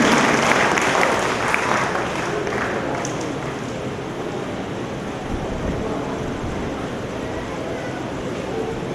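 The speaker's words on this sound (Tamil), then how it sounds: "உங்களுடைய கைத்தட்டல்கள் அவர்களுக்கு ஊக்கத்தை கொடுக்கும்." A crowd at a formal function applauds honourees with a broad, rushing wash of clapping that is strongest at the start and then settles into a steady, blurred roar.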